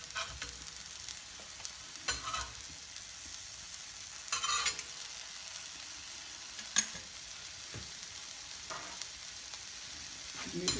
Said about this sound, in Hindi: इसको दोनों साइडों से हम सेक लेंगे।